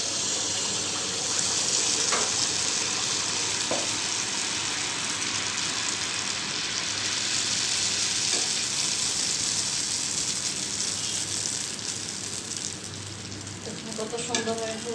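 Oil pitha batter fries in hot soybean oil, giving a steady, loud sizzling hiss throughout with a few brief pops and faint background noise.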